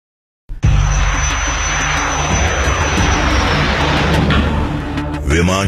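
A military aircraft passes loudly overhead, a sustained engine roar that swells in abruptly after a brief silence and holds steady, with a faint whine near the end.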